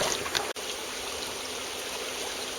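Creek water flows and trickles continuously during a walk along the stream, an even, close burbling wash broken by one brief dropout near the start, with no voices.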